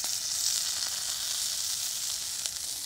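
Steak searing in a pan with smoked beef tallow, a loud, constant close-up hiss of sizzling fat with no talking.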